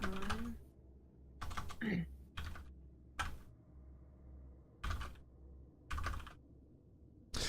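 Bursts of computer keyboard typing come in separate clusters over a low background hum, with quiet pauses between them and a brief voice sound near the start.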